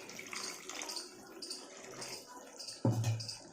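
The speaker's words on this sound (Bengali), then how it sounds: "আমি অল্প একটু জল দেবো" Water is poured into a pan of simmering fish curry, with a soft trickle and bubbling followed by a louder, fuller splash near the end. A faint voice is heard in the background.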